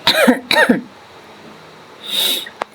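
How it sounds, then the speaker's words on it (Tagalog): Two sharp coughs in quick succession up close, then a breathy rasp and a short click, with no speech. "Pasensya na po at medyo inuubo pa."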